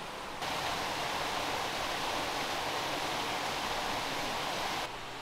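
Janet's Foss waterfall in the Yorkshire Dales roars as a steady, dense rush of falling water, loud and continuous throughout with no voices.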